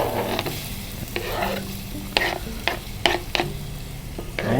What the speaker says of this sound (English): We start with the ginger in the pan.